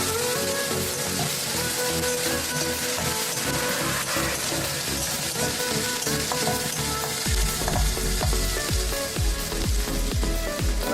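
Pork frying in oil in a pan with green chillies, a steady loud sizzle that grows busier with crackles and spatters toward the end, no voices.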